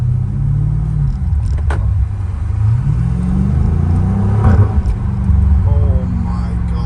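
A BMW M5 Competition engine accelerates on a drive, a loud steady rumble that rises and swells over several seconds.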